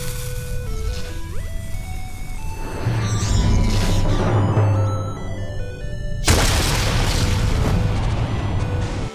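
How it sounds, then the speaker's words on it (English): A cartoon explosion from Rick and Morty bursts out abruptly after rising electronic tones and a rumbling, crackling stretch, loud and heavily mixed with synthetic sound effects. "Explosions?"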